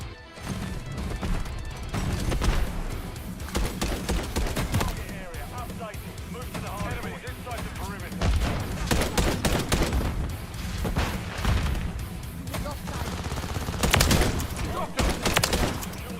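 Rapid gunfire from a player's gun in a video game, with dense bursts of shots and sharp impacts running continuously, loud and close, with voices talking over the action.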